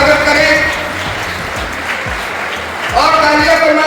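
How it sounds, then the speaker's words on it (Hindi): Railway track maintainers at a conference in a railway institute hall applaud to welcome a senior officer. The burst of clapping is steady and fairly loud, and a voice talks over it. "ये कर्मचारियों की तालियों की आवाज है।"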